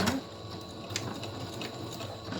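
A sewing machine top-stitching the seam of a pillow made from an upcycled hoodie, a quiet steady mechanical whir with faint clicking, running alone without voices.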